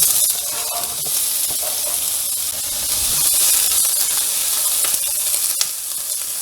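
Chopped onion hitting a pan of hot olive oil with browning ground turkey breast, giving a steady, close, continuous sizzle and hiss with a few brief stirring clatters, no talking.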